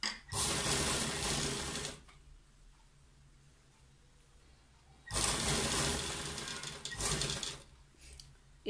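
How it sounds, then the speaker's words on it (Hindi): Sewing machine stitching a cold shoulder sleeve, running in two loud, steady bursts of about two and three seconds with a quiet pause between, close up and with no talking. "और अब हम इसे यहाँ पे सिलाई लगाना शुरू करते हैं।"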